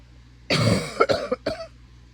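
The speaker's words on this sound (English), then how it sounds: "I still have the cough" A single harsh cough followed by two shorter coughs, close and fairly loud, against a quiet background.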